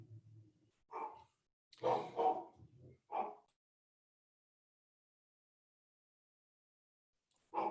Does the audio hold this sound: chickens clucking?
no